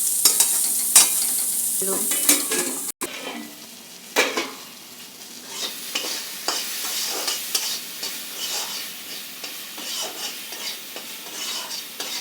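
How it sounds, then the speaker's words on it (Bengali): Pumpkin seed fritters frying on low heat in a covered pan, a steady close sizzle with scattered pops and clinks of stirring, one brief sharp dropout early on, no voices. "এটা ঢেকে ঢেকে করলে সুন্দর ভাজা, ভাপে ভাপে সুন্দর ভাজা হবে এটা।"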